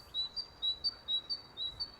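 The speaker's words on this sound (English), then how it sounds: "here's some birds right in my ears" Bird chirps in Ultimate Fishing Simulator, a repeating pattern of thin, high paired tweets about twice a second, close and clear over faint background.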